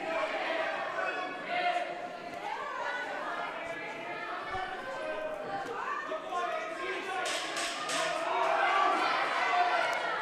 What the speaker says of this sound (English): Plenty of noise in the crowd.